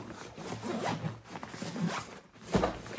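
A BAGSMART compression packing cube being zipped shut, a close, continuous rasping zipper pull lasting a few seconds with slight changes in pace as the zipper runs along the cube.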